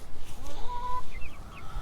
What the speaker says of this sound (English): They're actually being protected from the bigger chickens.